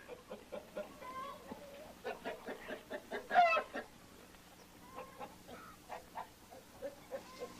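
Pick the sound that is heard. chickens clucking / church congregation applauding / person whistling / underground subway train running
chickens clucking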